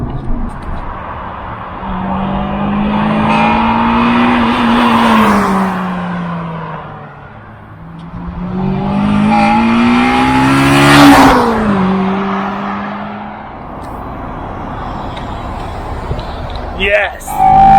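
A Honda Integra Type R DC5 engine fitted with a Tegiwa carbon airbox revs up twice in long, rising sweeps, loud and close, with people talking over it.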